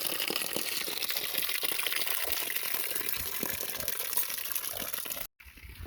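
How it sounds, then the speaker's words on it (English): Snowmelt runs into a pond on an Arizona homestead as a continuous rushing, splashing flow, fairly close, that cuts out abruptly for a moment just before the end. "I should have some snow melt here that I can let run into the pond."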